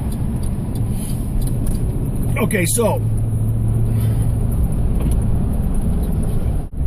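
Busy Paris city street traffic, a steady roar of passing cars with a vehicle sweeping by near the middle, under someone talking briefly at the start.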